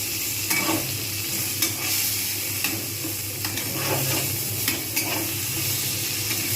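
Black cumin seeds, green chilies and turmeric stir-fried in hot oil in a pan, giving a bright steady sizzle with repeated spatula scrapes and taps at irregular intervals, no voices.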